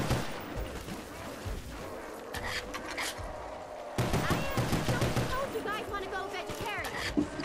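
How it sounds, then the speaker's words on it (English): Video game gunfire in a respawning shooter, rapid bursts of close shots and automatic fire crackling throughout, with a louder dense volley in the second half and voices mixed in. "I shot this guy that's behind me here."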